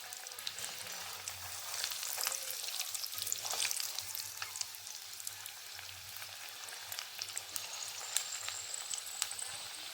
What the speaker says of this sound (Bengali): তেল গরম হয়ে গিয়েছে, তাই আমি এখানে একটা একটা করে ছেড়ে দিচ্ছি চপ।